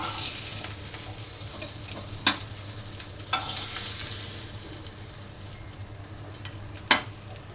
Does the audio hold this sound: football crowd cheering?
no